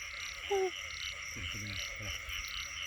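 Low rhythmic croaks from frogs sound in a short series over a steady wash of night rain and high insect-like hiss, with a brief chirp before them.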